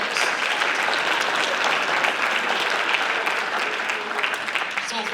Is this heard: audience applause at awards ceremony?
yes